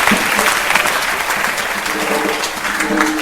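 Church congregation applauding, a dense steady clapping from a large crowd filling the whole stretch at close, even loudness with faint voices mixed in.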